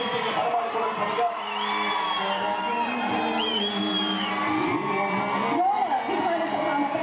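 A stage welcome for G.S. Patil draws a lively crowd that cheers, whoops and shouts steadily throughout, mixed with music and an amplified voice.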